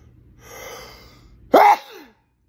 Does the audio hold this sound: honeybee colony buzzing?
no